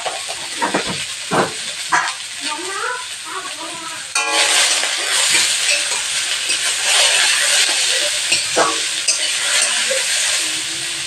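Dheki shak (fiddlehead fern greens) seasoned with salt and a little turmeric frying in a pan. After a few seconds of talk, a loud, steady sizzling hiss starts suddenly and continues, with faint speech underneath.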